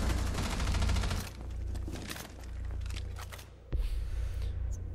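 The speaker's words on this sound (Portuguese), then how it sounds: "Olha o cara de Valkyrie com a metralhadora" Bursts of rapid machine gun fire in the Rainbow Six Siege video game, a dense rattling volley at first, then scattered shots and a sharp crack near the end.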